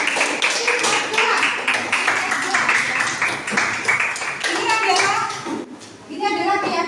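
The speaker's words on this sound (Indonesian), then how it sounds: "Oke, tepuk tangan untuk kalian semua." Students clapping in a classroom, a dense patter of many hands that fills most of the stretch before fading out, with children's voices and a teacher's talk mixed in toward the end.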